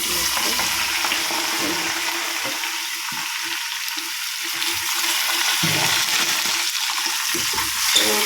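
Frying for ghee rice gives a loud, dense, continuous sizzle that hisses evenly with little variation and a small clink near the end, with no speech.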